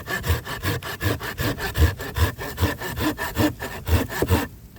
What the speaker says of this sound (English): But this one, I can just saw away.